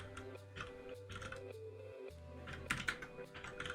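Keys tapped on a computer keyboard while writing Python code, a steady stream of close, quiet clicks with a faint sustained hum underneath.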